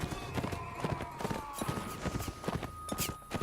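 Horse hooves gallop in the Mount & Blade: Warband video game, a fast, steady clip-clop rhythm of close, loud hoofbeats throughout.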